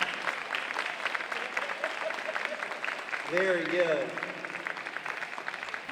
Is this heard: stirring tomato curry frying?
no